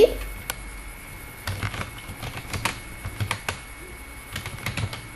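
Keyboard typing into a text box in an MS Word document, light scattered clicks in short bursts against a quiet room background, close and fairly soft with no talk.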